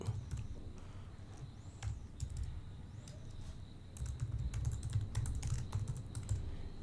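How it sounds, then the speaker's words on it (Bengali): Typing on a computer keyboard while editing in vim, a quiet run of irregular close key clicks over a low background hum, with denser bursts of keystrokes toward the end. "অ্যাক্সিডেন্টাল টেক্সট লিখলাম"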